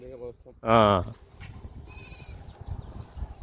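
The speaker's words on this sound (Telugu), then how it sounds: "మేకలు కూడా వచ్చినాయి కనిపిస్తున్నాయి" Goats give one loud, drawn-out bleat from close by near a tribal family's forest home, against outdoor background murmur and occasional distant speech.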